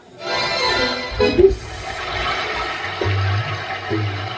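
A voice on a stage-drama set imitates a village water tap sputtering when the supply runs dry: a hissing, gurgling rush that holds steady, with a few lower groaning bursts near the end.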